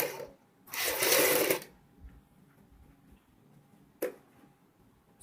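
A sewing machine stitches the collar of a kurti, giving one close run of about a second, then a faint click and a second very short burst after a quiet stretch.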